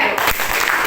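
Students in a classroom play a rhythmic group clapping game, with a couple of crisp group claps and a busy, noisy room behind them.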